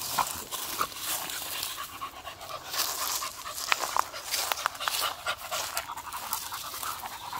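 A beagle pants rapidly and steadily up close, quick rhythmic huffs with faint whimpery breaths, continuing without pause and without talk.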